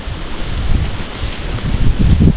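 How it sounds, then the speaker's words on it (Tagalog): Strong wind buffets the microphone outdoors near the sea, a steady rough roar with louder low gusts swelling toward the end, no voices present. "Lakas ng hangin."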